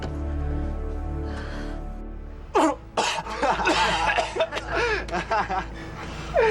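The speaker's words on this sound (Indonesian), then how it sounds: "Batuk." A harsh, sudden cough bursts out, followed by a string of short coughs and throaty, laugh-like exhalations up close.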